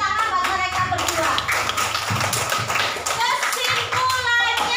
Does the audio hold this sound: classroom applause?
yes